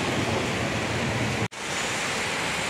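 Steady rain pours down outdoors in a dense, constant hiss, loud and even throughout, briefly cut off for a split second midway before resuming; no voices.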